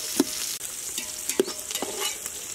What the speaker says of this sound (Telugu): ఆనియన్స్ బాగా ఆయిల్ ఫ్రై చేసుకున్నాము